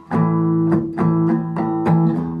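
Guitar power chords played in short rhythmic strokes, about six hits over a couple of seconds, ringing and close with no voices.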